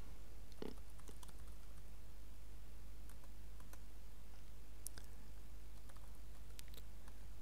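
Sparse, faint clicks of computer keyboard typing over a constant low hum, a few scattered key taps entering commands on a remotely accessed TOPS-10 system.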